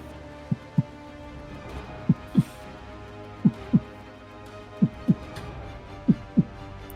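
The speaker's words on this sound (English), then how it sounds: "the sound of a heartbeat's getting louder and louder" A heartbeat sound effect in a tabletop role-playing game, with paired lub-dub thumps repeating steadily over a low hum, each pair distinct and close.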